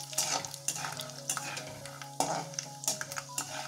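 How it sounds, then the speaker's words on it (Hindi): Peanuts frying in a pan for poha chivda namkeen, with a steady close sizzle and repeated scraping stirs of a spoon against the pan over about four seconds. "अब हम मूंगफली को दाना को फ्राई कर लेंगे।"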